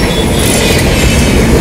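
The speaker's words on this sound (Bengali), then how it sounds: "লোকোমোটিভ 6621।" Railway locomotive 6621 rolls past a level crossing at Haldibari, a loud, steady rumble of train wheels and wagons filling the short stretch with rattling clatter and faint squeal.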